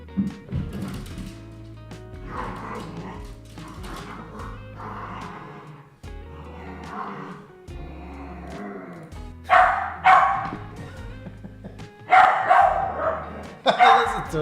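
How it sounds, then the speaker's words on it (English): A small dog, likened to a toy dog, gives a run of high yips and barks in bursts, loud and close, with quieter stretches between. "Listen to him. He sounds like a toy dog."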